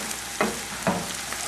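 Sun-dried tomatoes fry in about three tablespoons of olive oil, giving a steady close sizzle with two brief louder stirring scrapes in the pan.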